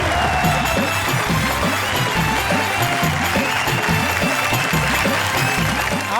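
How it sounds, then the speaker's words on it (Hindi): A festive Holi comedy poetry show audience applauds and cheers to welcome a poet on stage, a loud, continuous wash of clapping and crowd noise with a steady pulsing beat underneath. "जोरदार तालियों के साथ।"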